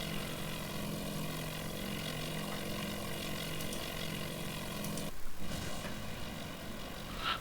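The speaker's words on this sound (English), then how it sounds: "our bombers are coming back from their search job" Returning bomber aircraft in the Task Force Admiral naval game produce a steady, droning propeller engine roar with a brief dip partway through, sustained and fairly loud throughout.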